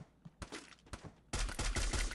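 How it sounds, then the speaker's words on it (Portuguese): Gunfire in the Free Fire battle royale game: a few scattered shots early on, then a dense, loud burst of rapid automatic fire filling the second half. "Tô escutando tiro."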